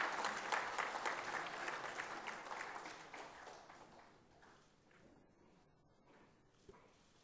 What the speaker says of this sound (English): please give the team led by the Chief Minister a big round of applause